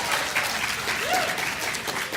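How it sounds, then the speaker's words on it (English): Families and students at an 8th grade advancement ceremony clap for themselves, a full, steady round of applause with a voice briefly rising over it. "You can clap for yourselves."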